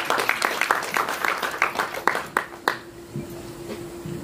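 An audience at a Padavettamman devotional audio song release event bursts into rhythmic applause, a crisp run of claps that thins out and fades within a few seconds.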